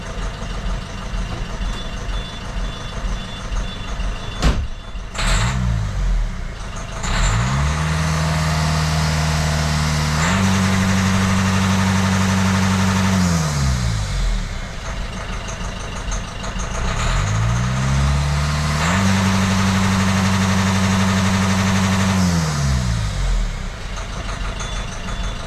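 A Citroën C4 engine idles in an enclosed space after being restarted, a steady, loud low rumble with two long swells as the revs rise and settle, after a few sharp clanks.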